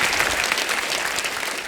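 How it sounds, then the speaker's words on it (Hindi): A studio audience on a Hindi comedy show breaks into strong, sustained applause, close and full, with a dense patter of hands from start to finish. "जोरदार तालियां हो जाए मेरे भाई के"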